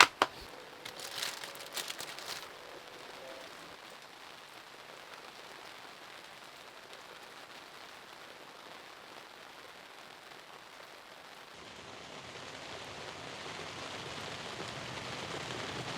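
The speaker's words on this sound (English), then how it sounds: "Man, it is really chucking it down." Heavy rain pouring down outside a van during an Outback storm, a dense, steady hiss of drops on the roof and surroundings, with a few sharper crinkling sounds early on and the downpour swelling louder toward the end.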